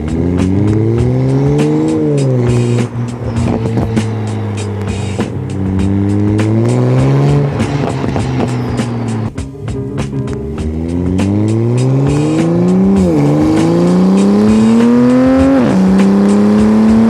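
Car fitted with an ETS turn-down exhaust and upgraded chargepipe, revving and accelerating hard with rising and falling engine pitch through repeated gear pulls, loud and close, with brief tire noise.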